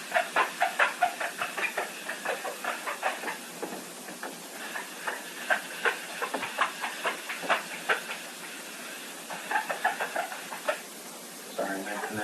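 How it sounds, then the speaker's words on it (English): A magic eraser squeaks against a board during a math lecture, producing rhythmic, repeated squeals in short strokes, fairly close and steady throughout. "Sorry, my magic eraser is squeaking."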